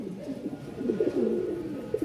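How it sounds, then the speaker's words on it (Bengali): A male pigeon coos repeatedly at close range, soft low throaty calls rolling one into the next. "ডাক দেখেন, কবুতর সবগুলো অ্যাক্টিভ আছে"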